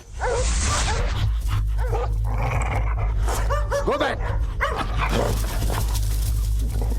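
Several dogs bark, yip and whimper loudly and continuously at close range in a Malayalam horror film scene, while someone shouts over them.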